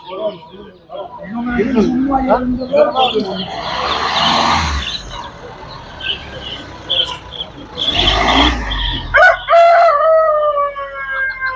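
At a Tuzla poultry market, chickens and roosters cluck and crow in scattered, fairly close calls, with a couple of louder bursts and a drawn-out crow standing out over people talking nearby.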